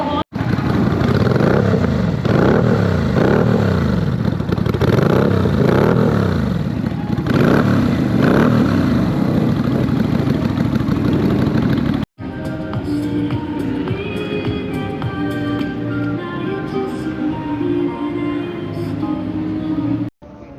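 A Thunder LS250 motorcycle with a 249cc V-twin engine runs loud and close, its throaty rumble rising and falling for about twelve seconds, then a brief cut before a steadier, harmonic engine drone continues to the end.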